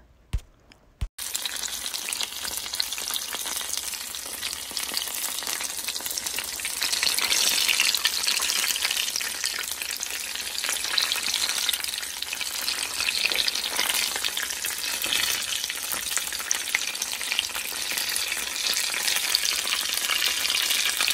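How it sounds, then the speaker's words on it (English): Loud, continuous sizzling of spaghetti-filled egg rolls frying in hot oil, a dense crackling hiss that holds steady throughout with no voices. "I hope y'all are enjoying those frying sounds."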